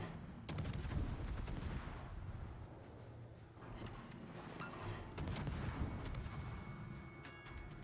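Naval warship video game gunfire keeps up a steady rumble of repeated booming shots and crackling volleys, loud and continuous with brief dips.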